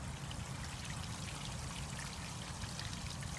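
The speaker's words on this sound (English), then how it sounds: "So we're going to open our black valve again, let it drain." Waste water rushes out of a travel trailer's RV black water tank through an opened valve, a steady, dense gushing and splashing flow that never lets up.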